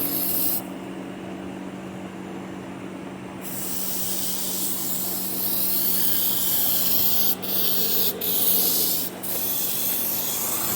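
An engine crankshaft is washed with a spray of cleaner, giving a steady, close hiss with brief breaks and rubbing texture as the stream plays over the metal.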